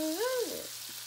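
Butter and garlic fry in a pan with a soft, steady sizzle throughout, while a short voice-like tonal sound rises and falls near the start.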